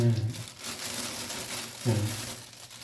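A plastic bag crinkles and rustles up close as fermenting soybeans are bagged, a continuous papery crackle with a voice briefly heard at the start and again near two seconds.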